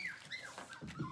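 A puppy gives a brief run of high, wavering whimpers and whines, close and fairly quiet, over about a second.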